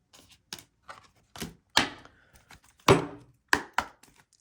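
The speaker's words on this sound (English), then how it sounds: "I just love shuffling cards." Tarot cards are shuffled by hand, giving a string of irregular, crisp taps and thumps close up with short pauses between them and no talking.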